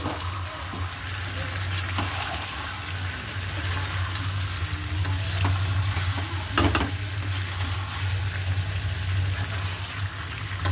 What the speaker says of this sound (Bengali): আলুগুলো দিয়ে দিলাম, আবার কড়াই ঘুরে যাচ্ছে।